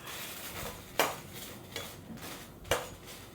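Mild Kashmiri red chillies frying in hot oil for a fish curry, with a faint hiss under three sharp metallic clinks of a spoon stirring against the pan.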